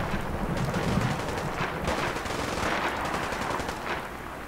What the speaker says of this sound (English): I hear gunfire. I heard gunfire.